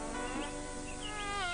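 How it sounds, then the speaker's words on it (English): An angry cartoon bee buzzes loudly and close, a steady insect drone with a rising, wavering whine toward the end. "Milton had made the bee very angry indeed, and it flew straight back to its hive."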